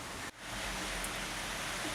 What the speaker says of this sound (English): I'm tipping it down with rain outside.